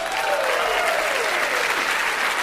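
Audience applause rings out as a steady wash of many hands clapping at even strength, with a voice faintly audible beneath.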